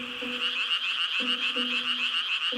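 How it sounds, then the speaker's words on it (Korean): Korean brown frogs croaking in a wetland near a forest on an early summer night: a dense chorus of rapid pulsed calls with lower repeated croaks cutting in, close and continuous. "소리만 들어도 알 것 같은 그 주인공, 네, 바로 개구리입니다."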